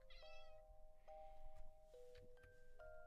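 A pet cat meows several times in short, clear, tonal calls that rise and fall, close by in a quiet room.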